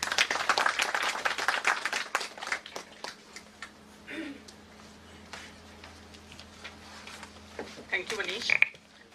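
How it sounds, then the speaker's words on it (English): Conference audience at an oncology nursing gathering applauding a speaker, a dense burst of clapping that thins out, with faint talk and rustling underneath and a brief voice near the end. "Please welcome her with a big round of applause."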